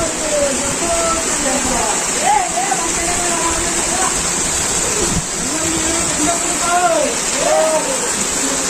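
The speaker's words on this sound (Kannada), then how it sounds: "ನೋಡಿ ಫ್ರೆಂಡ್ಸ್, ಈ ರೀತಿಯಾಗಿ ನೀರು ಹರಿತಾ ಮುಂದೆ ಹೋಗುತ್ತೆ ಫ್ರೆಂಡ್ಸ್." Spring water flows steadily out of a cave temple at Gavisiddalingeshwara, Gurumitkal, making a continuous rushing, splashing wash. Faint voices sound beneath it.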